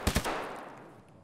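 In Escape from Tarkov, two quick, loud gunshots crack close together, followed by a long fading echo.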